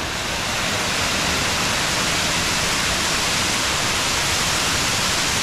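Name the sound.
waterfall on the Ilomska river, Vlašić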